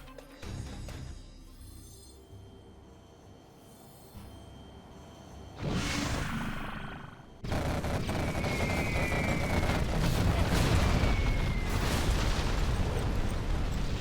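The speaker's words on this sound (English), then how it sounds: "The Carpet Bomb comes in, takes out 1 market" Carpet bomb strike in a real-time strategy game on a snowy map, heard as a run of heavy booming blasts that swell suddenly and then roll on loud and continuous, with a rapid barrage feel.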